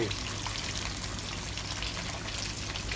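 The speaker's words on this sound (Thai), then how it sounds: "นะผมจะทอดปลากระบอกนะครับ" Mullet fish frying in a pan of oil, a soft continuous crackle and sizzle with scattered pops, faint and steady throughout.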